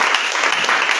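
A church congregation bursts into steady, loud applause in praise, a dense wash of hand claps filling the whole moment without pause.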